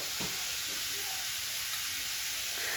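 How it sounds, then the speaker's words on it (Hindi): Steady loud hiss of tadka spices sizzling in hot oil for kadhi, continuous and close, with faint background clatter. "देखो यहाँ पे लग रहा है मेरे हस्बैंड का तड़का।"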